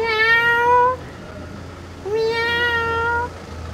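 A domestic cat meows twice, close and clear, each call a drawn-out, rising-then-falling cry separated by a short pause, with no talking.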